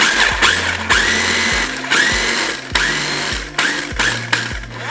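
Food processor pulsing fresh mint and parsley, about six short bursts of whirring motor, each spinning up and cutting off with a brief clatter, close and loud with short gaps between pulses.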